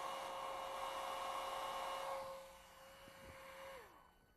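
A continuous airy blowing hiss from a hair-dryer-like blower directed over a heated bimetal strip, with a steady tonal whine that drops in pitch near the end as the airflow eases off.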